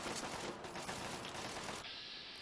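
Rapid gunfire from a Fallout 3 firefight plays as a dense, continuous burst of shots, fairly faint overall, with the volley easing off near the end.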